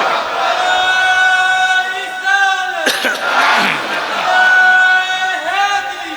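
A crowd shouts a slogan in unison at a Rabi ul Awwal religious gathering. The chant comes in loud, echoing bursts with an amplified voice ringing out over a reverberant space.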